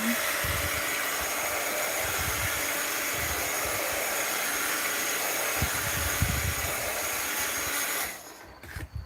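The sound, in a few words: heat gun blowing on art journal page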